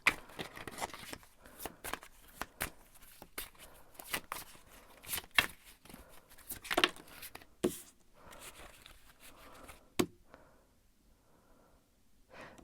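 Tarot cards are shuffled close by in a quiet room, giving irregular soft riffling flicks and taps over about ten seconds before things fall quiet.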